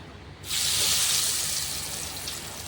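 Laddu dough pieces dropped a few at a time into a small amount of hot oil, setting off a loud, steady hiss of sizzling that rises sharply after a quiet start and holds close and constant.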